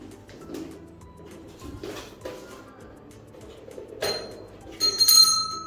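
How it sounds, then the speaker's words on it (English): A small bell rings near the end with a bright, sustained chime, preceded by soft taps and faint background cooing; fairly quiet overall. "Yes, there is a bell."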